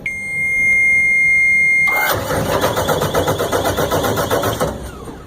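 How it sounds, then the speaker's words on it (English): A high whine and starter cranking give way to an engine catching and running with a rapid, pulsing idle, loud and close. "going to crank the engine"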